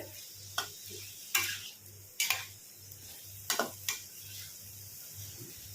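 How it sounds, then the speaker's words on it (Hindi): Jackfruit pieces coated in masala are stirred and fried on a medium flame, a soft continuous sizzle broken by several sharp scrapes and knocks of the spoon against the pan, close and without speech. "मीडियम फ्लेम पे ही 10 से 15 मिनट तक भूनेंगे। इनको चलाते हुए"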